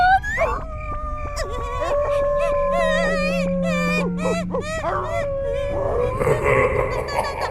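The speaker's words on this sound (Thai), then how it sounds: "จะได้ยินเสียงหมาหอนและ" Cartoon dog howling sound effect, several long wavering howls and yips layered over eerie sustained background music, loud and close.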